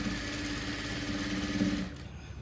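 A sewing machine stitches an altered ready-made nighty with a steady, continuous mechanical whir at close range, running alone until it slows and stops near the end.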